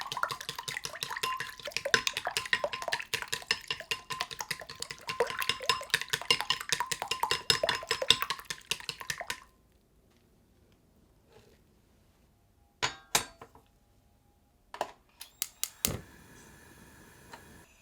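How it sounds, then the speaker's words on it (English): Whisking an egg in a bowl for a sushi roll omelette, a steady, rapid, close run of light clicking and tapping strokes for about nine seconds, then a pause and a few separate knocks. "Crack and beat the egg."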